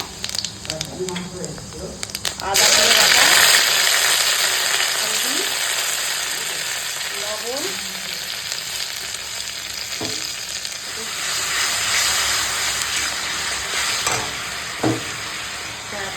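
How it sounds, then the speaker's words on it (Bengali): Whole cumin, bay leaf and dry red chillies hit hot oil in a kadai, and a loud sizzle and spatter burst in after a moment, then settle into steady frying with stirring scrapes while someone talks briefly. "এখন ডালটাকে সাঁতলে দেবো কড়াই তেল দিয়ে দিয়েছি আর এখানে আছে গোটা জিরে তেজপাতা শুকনো লঙ্কা"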